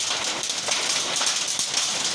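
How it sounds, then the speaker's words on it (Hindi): Hailstones fall steadily, giving a dense, hissing patter with sharp ticks scattered through it, continuous and fairly close, with no voices. "तो बारिश पत्थर का ही हो रहा है।"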